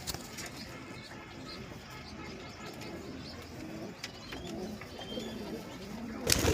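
Pigeons coo low and soft among scattered bird chirps and faint rustling, with a muffled voice in the background and a sharper knock at the very end.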